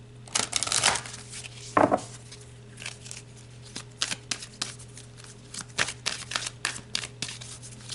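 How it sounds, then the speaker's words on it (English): Tarot cards being shuffled up close, a run of quick papery riffles and soft slaps in uneven bursts over a low steady hum, with no talk. "So let's pull some more cards."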